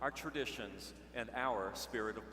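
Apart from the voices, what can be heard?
No everyday noises stand out.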